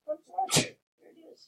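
A single sharp sneeze bursts out in a classroom between brief snippets of speech.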